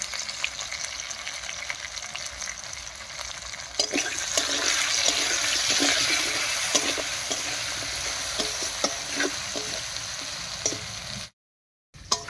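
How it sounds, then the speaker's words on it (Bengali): Potatoes fry with turmeric and salt in hot oil, giving a continuous close sizzle broken by stirring scrapes and utensil taps, ending in a brief silence. "এবারে হলুদ লবণ দিয়ে আলুটাকে একটু ভাজা ভাজা মতো করে নেব।"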